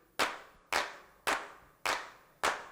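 A clap sample pitched lower to sound bigger and heavier: five loud, dry, punchy claps at an even pace about half a second apart, each with a short decaying tail, with no voices.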